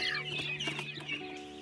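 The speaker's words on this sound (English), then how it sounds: "Walk through a market and you'll hear chicks chirping amid the general sounds of commerce" Small chicks and fowl at a Moldovan market give high, repeated chirps and a few clucks, up close and fairly clear over faint background bustle.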